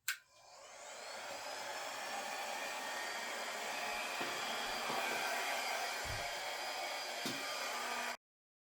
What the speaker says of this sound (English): That blow dryer is fantastic.